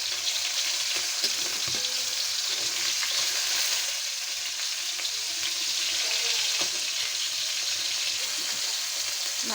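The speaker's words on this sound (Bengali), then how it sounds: "এখানে মাছগুলো একটু হালকা ভাজা নিব" Hilsa fish pieces lightly frying in oil in a wok, a dense, continuous close sizzle at steady loudness throughout, with faint stirring clicks and no talking.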